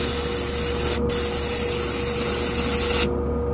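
A Sparmax Max 3 airbrush sprays pre-thinned paint in a steady, close hiss, with brief pauses near the start and end of the burst, alone without talk.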